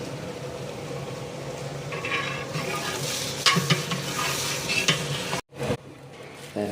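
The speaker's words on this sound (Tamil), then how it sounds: "இப்போ நம்ம கருவேப்பிலையும் கொத்தமல்லியும் மதிப்பே இப்பயே போட்டுவிடாது போட்டுட்டு எண்ணெயில் வதக்கலாம்" Onions, curry leaves and coriander stir-fry in oil for a tamarind kara kuzhambu rice, with a steady close sizzle and repeated scraping stirs throughout, a brief dip near the end, no voices.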